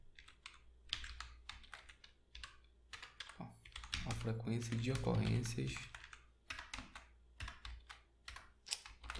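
Fast keystrokes clatter on a computer keyboard in sharp, irregular bursts, close to the microphone, while a person speaks over part of the typing.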